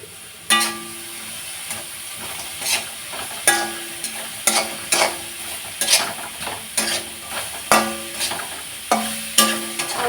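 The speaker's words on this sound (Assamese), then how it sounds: "ইয়াতে দিব লাগিব নাৰিকল আৰু গুড়খিনি একেলগে দি ধুনীয়াকৈ ভাজি ল'ব লাগিব" Grated coconut and jaggery fry together in a pan for Magh Bihu pitha, with a steady sizzle broken by repeated sharp scraping strokes of a spoon against the pan, and no voices.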